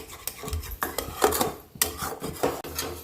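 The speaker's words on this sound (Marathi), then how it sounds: "हे बघा, दूध सातत्याने हलवत राहायचं आहे" Milk stirred steadily in a pan on the stove while it thickens for basundi, the spoon rasping and scraping across the metal bottom in repeated close strokes.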